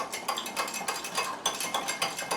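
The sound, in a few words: whisking milk chocolate mousse mixture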